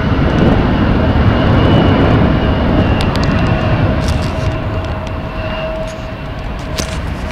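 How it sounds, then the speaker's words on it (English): An American Airlines plane taking off from Tulsa International Airport produces a loud, steady jet roar that fills the scene and eases slightly as it climbs away. "That plane has just left the runway and it's now climbing."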